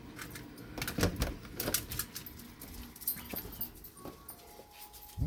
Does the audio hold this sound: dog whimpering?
yes